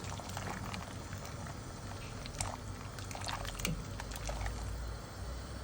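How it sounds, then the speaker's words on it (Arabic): Pasta boils in a pot of water, a continuous dense bubbling and churning roil, close and even throughout with faint clinks on top. "هنا حطيت المكرونه تتسلق"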